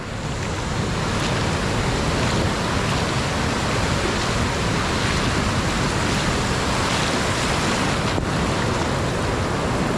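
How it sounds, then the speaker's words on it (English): A big ocean swell at the Perhentian Islands in monsoon season, a continuous loud roar of surf and breaking waves mixed with wind buffeting the microphone. "It's a pretty big swell actually."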